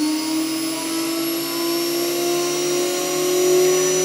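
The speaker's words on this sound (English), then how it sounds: "Turn the spindle on right here." A CNC spindle fitted with a closed-loop cooling system built from a computer CPU cooler runs steadily at 24,000 RPM, giving a continuous, even high-pitched whine at constant loudness with no talk over it.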